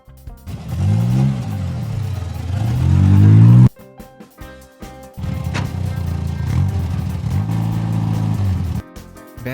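Animated transport bus engine revving in swooping rises and falls, loud and close, with a short break of clunks before another stretch of steady engine noise and a further wavering rev.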